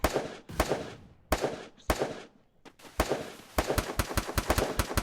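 Gunfire from the mobile battle-royale game Free Fire: a rapid string of sharp, loud shots, sparse at first, then a quicker burst of repeated cracks toward the end, with no talk over it.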